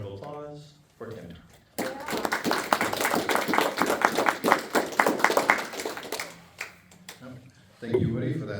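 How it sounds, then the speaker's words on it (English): An audience at a literary reading and open mic event breaks into warm applause, a dense burst of clapping lasting several seconds, with brief talk before and after. "So please give a warm round of applause for Tim."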